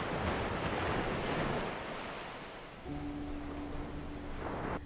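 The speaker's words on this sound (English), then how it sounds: "If you're by the sea, you can focus your attention on the beautiful melody of the waves." Sea waves wash steadily onto a shore, a broad soft roar with gentle swells and a lull midway, mixed with light wind noise.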